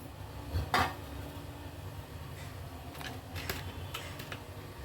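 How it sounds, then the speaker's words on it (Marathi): A lid set onto a cooking pot in a home kitchen gives a faint metallic clink, followed by a few quiet ticks and taps against a low background hum. "आता यावर ठेवते झाकण"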